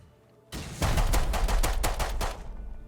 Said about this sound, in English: This guy's shooting the fucking turret out as well.